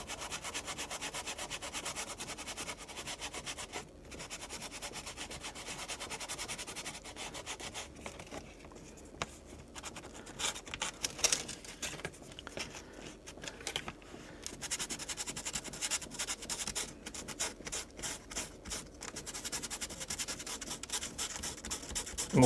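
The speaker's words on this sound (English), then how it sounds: "But this is just 220 sandpaper. And just sand it down." Fine 220 grit sandpaper rubbed over a small diorama piece, a steady dry scratching that runs continuously with brief pauses and shifts in pressure, close and fairly quiet with no talk.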